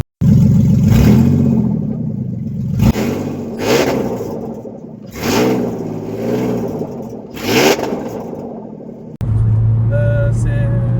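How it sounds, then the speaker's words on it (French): A modified-exhaust Nissan S14 revs hard in repeated loud bursts, the engine note rising and falling several times before settling into a steady idle near the end. "Et puis là vraiment le moteur il chante vraiment, il est là pour chanter."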